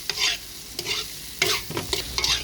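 A spatula scrapes and tosses rice vermicelli (bihun goreng) in a wok over high heat, in repeated metallic stirring strokes with a light sizzle between them, close and without talk.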